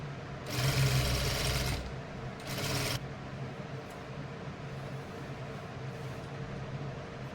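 A sewing machine stitches an umbrella frock in two loud bursts, the first lasting over a second and the second about a second, before fading to a quieter steady hum.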